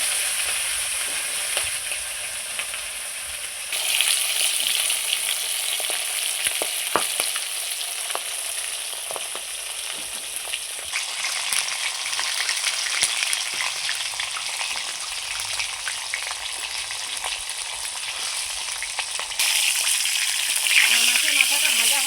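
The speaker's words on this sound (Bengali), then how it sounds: "এইবার আমি মাথাটা ভেজে নেব।" A salted, turmeric-rubbed fish head fries in hot oil in a wok, giving a continuous loud sizzle and crackle with occasional stirring and spatter bursts that swell and change over time.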